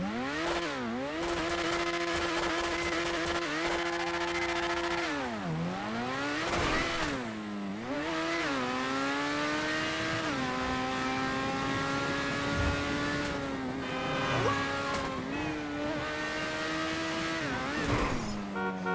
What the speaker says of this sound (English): we have to do a full sound test on the car as well